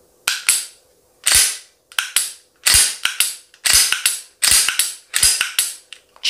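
Sharp mechanical clicks of a P-10 M pistol's short-reset trigger being pulled and reset, repeated in quick pairs about a dozen times, close and loud, with no voices.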